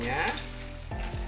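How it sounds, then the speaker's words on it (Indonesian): Fried peanuts and Medan anchovies tossed into a hot pan for balado, giving a loud continuous sizzle and crackle of frying with brief scraping stir sounds near the end, no talking. "sekarang kita masukkan kacang tanah beserta ikan teri medannya ya, yang sudah kita goreng tadi"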